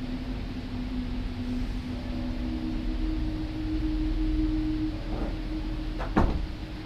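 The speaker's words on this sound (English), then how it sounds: "The first door to the wig room opens and closes by" A door to a theater wig room, caught on a security camera, moves under constant hiss, ending in a brief knock-like thud as it shuts.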